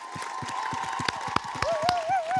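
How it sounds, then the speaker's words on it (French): Rhythmic, steady clapping from a studio audience for French TV news anchor Jean-Pierre Pernaut at his final broadcast, with a faint tone wavering above the claps. "Nous allons vous applaudir. Bravo Jean-Pierre."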